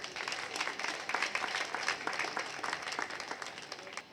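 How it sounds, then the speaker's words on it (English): Audience applause at a business event in Jamaica, continuous rapid clapping from a crowd, even and sustained at a moderate distance with no speech over it. "Please give them a round of applause."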